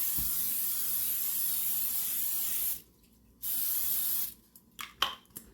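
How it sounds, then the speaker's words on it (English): Cooking spray hissing into a Dutch oven, a long steady spray that stops briefly, bursts again for about a second, then breaks into short clicks and taps. "Spray your Dutch oven."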